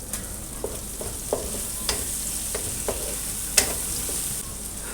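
Tomatoes go into frying onions and are stirred. A continuous loud sizzle runs throughout, with occasional light taps and scrapes of the spoon against the pan, and no talking.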